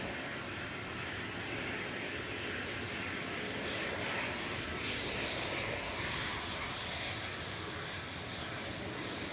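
A Portugalia Airlines Embraer E195 jet heads out at Manchester Airport, its engines giving a continuous, even roar at a moderate distance throughout.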